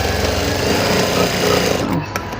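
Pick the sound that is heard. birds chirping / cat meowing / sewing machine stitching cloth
sewing machine stitching cloth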